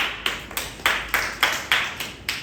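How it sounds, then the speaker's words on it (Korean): Students in a high school math lecture clap a few times, giving eight distinct, evenly spaced claps in a quick, steady rhythm. They sound close and moderately loud against a quiet room. "오, 박수."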